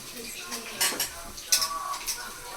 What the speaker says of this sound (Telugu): ఇప్పుడు నేను చికెన్ వేసుకుంటున్నాను